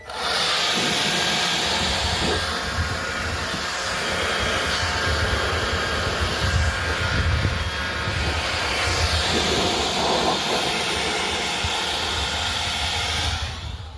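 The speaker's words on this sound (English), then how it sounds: "I'm using my mom's electric battery blower" An electric battery-powered leaf blower blasts grass out of the screw holes on a Craftsman 19-inch electric lawnmower, a steady loud close-up whoosh that holds for the whole stretch with only slight flutters and no talking.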